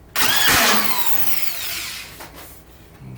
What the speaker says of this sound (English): Now it's supposed to make a noise like that. That's the slip clutch you hear.